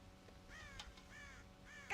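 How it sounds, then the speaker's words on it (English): Crows caw in Red Dead Redemption, three or four harsh calls spaced across a quiet background at moderate distance. "God damn crows!"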